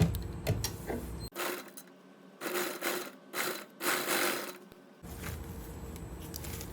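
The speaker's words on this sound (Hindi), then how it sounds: "अब हम सिलाई लगाएंगे।" A sewing machine stitches the shoulder strap seam of a deep neck suit, running in several short, fairly loud bursts separated by pauses.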